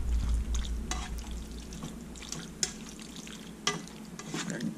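A garlic and Italian sausage sauce cooks on low heat in a pan, a steady soft bubbling sizzle with occasional clicks from stirring, close and alone.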